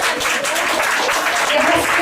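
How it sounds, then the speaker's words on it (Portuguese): A church congregation applauding during a worship service, loud, close clapping from many hands with voices faintly mixed in beneath it. "Aplauda o Senhor bem forte"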